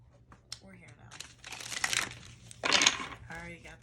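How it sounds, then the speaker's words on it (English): A deck of tarot cards being shuffled close up, with soft papery riffles and crisp, louder bursts of card flutter in uneven clusters against a quiet room. "I would prefer to shuffle off camera because I know that the cards are a little loud"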